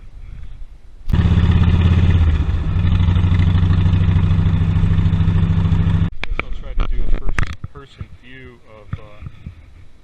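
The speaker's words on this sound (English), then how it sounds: "motor running with no exhaust" A Harley touring V-twin engine runs with no exhaust pipes fitted, a loud, raw, close throbbing roar holding steady for several seconds before cutting off, followed by scattered clanks and rattles.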